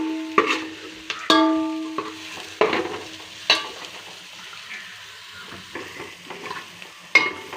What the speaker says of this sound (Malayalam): അപ്പോൾ നമ്മൾ ഉള്ളിയൊക്കെ വാടി വന്ന് സെറ്റായി വന്നിട്ടുണ്ട്